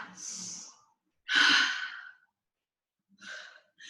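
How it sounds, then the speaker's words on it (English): Heavy breathing during a yoga sculpt workout's jumping jacks: three loud, breathy exhales close to the mic, separated by short silent gaps, each a forceful huff trailing off quickly. "You're gonna just hear me breathe heavy."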